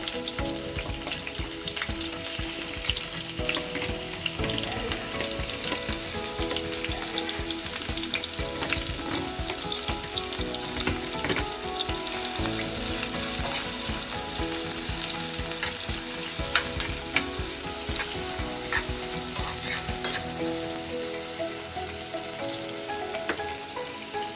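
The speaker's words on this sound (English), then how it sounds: "To my oil, I'm going to add my onions." Steady, loud sizzling of onions frying in hot oil, with occasional stirring clatter throughout.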